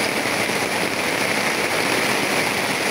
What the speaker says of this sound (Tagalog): Umuuso naman yung malakas na ulan mga kaidol.